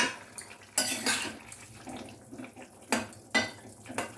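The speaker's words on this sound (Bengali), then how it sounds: "ঢাকা খুলে দেখি আমার আলু সেদ্ধ হয়েছে কিনা।" Lid lifted off a cooking pot of boiling potatoes, with a sharp metallic clank followed by several lighter clinks and taps of metal on metal, close and fairly quiet in a kitchen.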